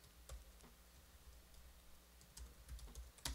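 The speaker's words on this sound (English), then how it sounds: "I can type something in here" Typing on a computer keyboard, with scattered soft clicks and a few quick bursts of keystrokes heard close but very faint against a low room hum.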